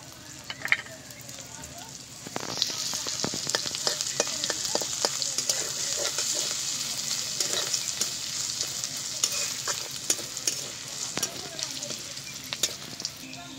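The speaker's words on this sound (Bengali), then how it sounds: "এবার দিয়ে দিচ্ছি ফোড়ন আছে সর্ষে আর শুকনো লঙ্কা।" Mustard seeds, dried red chilies and crushed ginger sizzle loudly in hot mustard oil in a kadai, a steady bright crackle that bursts in after a quiet start and keeps popping throughout.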